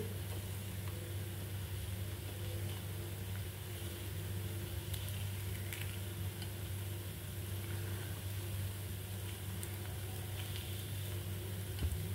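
White rice-flour pitha frying in a pan while being stirred, with a continuous, even sizzle and a few faint scrapes over a low steady hum.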